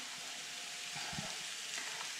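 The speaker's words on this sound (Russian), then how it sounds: "Теперь отправляем сюда лук и продолжаем обжаривать." Onion and garlic frying in a hot pan give a steady, even sizzle with faint stirring scrapes, close and continuous with no voices.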